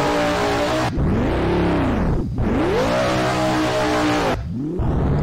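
Drift car in the Drift Crew racing game revving hard, its engine pitch climbing and falling in repeated sweeping arcs with abrupt cuts between shifts, loud and close with no talking.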